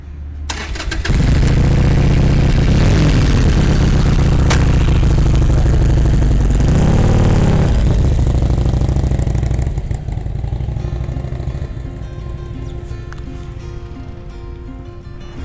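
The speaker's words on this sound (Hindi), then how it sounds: "हार्ले डेविडसन के बारे में जो एक बड़ी स्पेशल चीज़ है वो है इसकी साउंड" A Harley-Davidson motorcycle engine starts with a loud rumble, then settles into a deep, uneven idle with a loping beat that continues steadily to the end.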